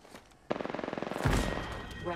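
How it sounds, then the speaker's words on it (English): Enemy automatic gunfire in a shooter video game rattles in a rapid, evenly spaced burst, loud and close, ending in a heavier blast with sustained noise. "The enemies are shooting at me."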